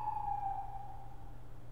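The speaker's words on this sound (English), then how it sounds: "So as we got the ambulance going by." An ambulance siren passes by outdoors as one clear, steady wail that fades, over a low rumble of traffic.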